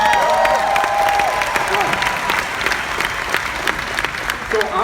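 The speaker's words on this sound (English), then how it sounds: "Let me hear a round of applause." A large convention audience at the 2016 Enagic Global Convention breaks into sustained applause, with dense clapping mixed with scattered cheers and crowd noise rolling on for several seconds.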